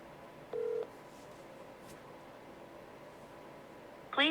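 Telephone keypad touch-tones beep out a number: a short steady tone burst near the start, a quiet stretch of line hiss, then a rapid run of dialing beeps at the end, with no one picking up.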